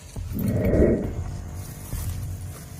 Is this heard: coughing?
no